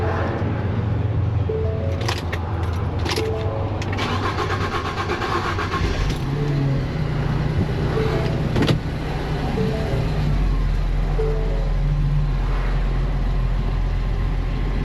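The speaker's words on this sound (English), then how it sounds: "Let's get the keys, start this up." A Ford V6 Transit van, just fitted with a new high-pressure fuel pump, cranks and settles into a steady running idle, with the engine drone and a few brief mechanical clicks up close.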